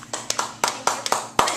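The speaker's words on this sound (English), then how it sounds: "A round of applause for Mel." A small group gives Mel a brief round of applause: a few quick, uneven claps in a close, sparse pattern, with nothing else sounding over them.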